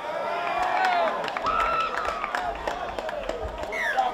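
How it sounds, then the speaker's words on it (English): Crowd cheering and shouting at a schoolboy rugby league match, Rockhampton Grammar against St Brendan's College, a dense wash of voices and whistles from the stands under a commentator's talk. "Wonderfully vocal crowd here tonight as well."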